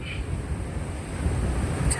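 Continuous low rumbling rush of Penna river water pouring through an open Somasila dam gate, steady and near, slightly swelling toward the end, with wind noise over it.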